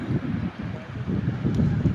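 Gusty wind buffeting the microphone, a low rumbling roar that rises and falls continuously with no speech.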